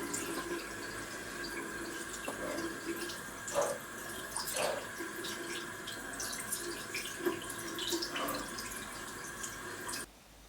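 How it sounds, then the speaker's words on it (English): Water runs steadily from a tap while a fresh tattoo on a half sleeve is gently washed, with soft splashes and drips close by before the flow cuts off near the end. "now I have to wash it gently and then wrap it up again"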